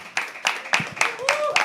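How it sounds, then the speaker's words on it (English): Sparse, separate claps from a poetry open mic audience, about six sharp hits spaced roughly a quarter second apart, with a voice rising in the background. "Start clapping."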